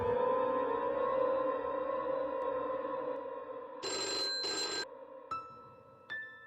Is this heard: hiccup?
no